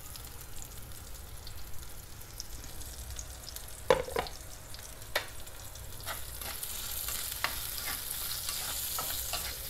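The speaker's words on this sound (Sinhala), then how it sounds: "කට්ට කරවල ටික දාලා එක පොඩ්ඩක් බැදගමු. ඒකත් එක්කම රම්පෙ කරපිංචාත් දානවා." Dried katta fish frying with curry leaves in a pan: a steady soft sizzle runs throughout, broken by sharp scraping and tapping clicks from a stirring spoon, close and fairly quiet.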